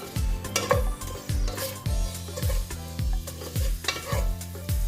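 A spoon scrapes and stirs onions with salt in a hot cooking pan for vegetable pulav, making a steady rhythmic loop of metallic clinks and scrapes over a soft sizzle, close and loud.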